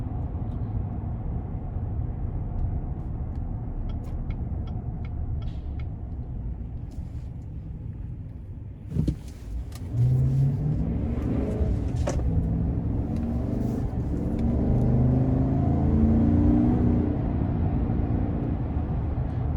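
A 2020 GMC Sierra 1500 Denali 4WD pickup with a 6.2-liter V8 accelerates, its engine rumbling steadily from inside the cab, swelling louder with rising revs after a brief shift-like dip midway, with no talking.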